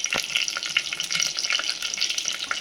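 Oil heats in a pan for masoor dal with a close, dense hiss and rapid crackle. The spitting stays fairly loud and continuous throughout, and no voices are heard.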